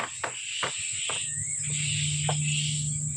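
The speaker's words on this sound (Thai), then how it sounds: "อันนี้จะเป็นจิ้งหรีดเวียดนามนะคะ" A steady, high-pitched trill of Vietnamese crickets rings on without pause, with a few soft knocks and taps as egg trays are knocked to shake crickets out.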